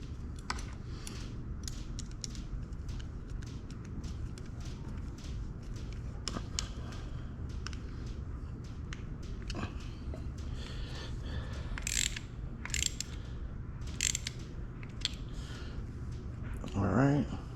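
Ratcheting and clicking of tools tightening a part while assembling a Polini Thor 202 engine, faint scattered metallic clicks and taps spread through a quiet workshop, with a few sharper ticks near the end.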